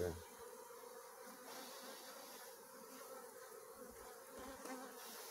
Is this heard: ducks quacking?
no